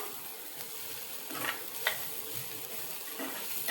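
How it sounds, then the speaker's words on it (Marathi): Ivy gourd and chana dal curry with ground fresh coconut is stirred in a pan, a quiet low sizzle with a few soft spoon scrapes and taps against the metal. "छान अशी मस्त ढवळून घ्यायची."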